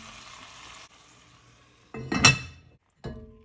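A lid clinks down onto a pot of Persian green beans with rice and spices after a soft sizzle fades. A short, sharp metallic clatter rings out, then a brief quieter knock follows.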